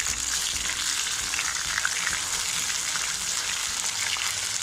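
Mushrooms frying in a pan for roadside-style kaalan, a continuous even hissing sizzle at moderate level, unbroken and alone without speech.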